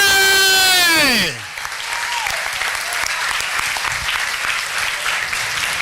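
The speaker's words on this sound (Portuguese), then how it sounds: "Vamos aplaudir ao Senhor." Church congress audience in a packed temple bursts into sustained, dense applause right after a loud falling voiced cry, the clapping staying steady and full to the end.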